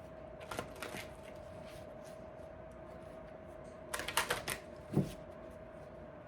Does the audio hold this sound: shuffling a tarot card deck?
yes